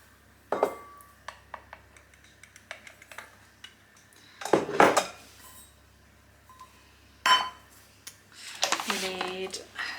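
A sugar container is handled and flour and sugar measured out for a chocolate cake: scattered light clinks and taps, a few louder knocks of the container against a hard surface, and someone talking in between.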